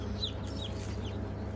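Farm chicks and chickens peep and cluck faintly in the background over a steady low hum, a short stretch of soft, scattered bird calls.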